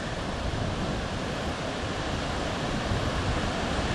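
Sea waves wash onto the beach at Borth on the Irish Sea coast in Wales, a constant broad roar of surf with some wind buffeting the microphone and no voices.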